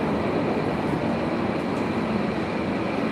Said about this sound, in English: I hear a subway coming.